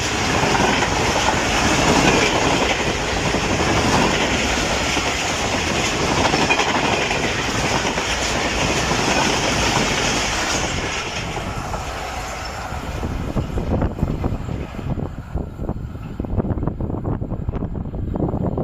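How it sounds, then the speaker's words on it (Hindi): The Sir Syed Express, a private train led by HGMU 8221 locomotive, thunders through Meting railway station at high speed, a loud continuous roar and clatter of wheels with wind buffeting, easing into rhythmic clickety-clack as the carriages pass. "36 टाउन सर सैयद एक्सप्रेस ने बड़ी कमाल की स्पीड से थ्रू पास किया है मिटिंग रेलवे स्टेशन को"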